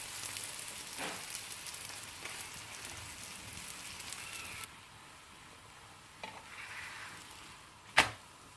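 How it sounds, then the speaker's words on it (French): Moroccan msemen flatbread fries in a pan over medium heat with a soft, steady sizzle and crackle, faint and close, with a light clatter near the end. "Je vais laisser cuire à feu moyen à peu près 2 minutes de chaque côté."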